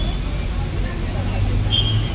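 A Ratnagiri-bound state transport bus at Dadar gives off a low, steady engine rumble heard from inside, with faint traffic and passenger chatter around it.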